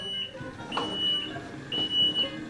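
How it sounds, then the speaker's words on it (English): An electric wheelchair's warning beeper sounds in short, fairly faint electronic beeps, two or three spaced tones over light background noise. "I got a beeper to warn people"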